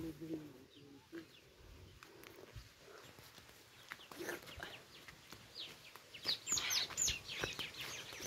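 Birds chirp beside a cool, flowing mountain stream, the faint high calls clustering near the end over a soft outdoor background hum.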